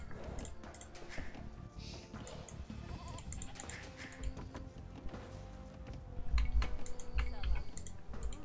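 Sheep bleating in a team game of Age of Empires, a few short bleats over a busy game soundscape, with keyboard and mouse clicks running throughout.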